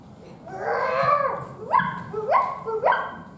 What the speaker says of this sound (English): What a nice little dog.